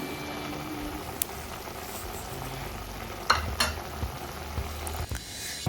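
Chicken curry in a covered pan comes up to a boil, giving a low, steady bubbling hiss close by, with a few sharp metallic clanks and knocks from the pan and lid, and no voices.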